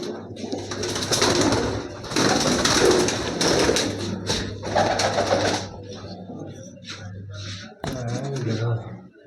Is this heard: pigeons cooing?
yes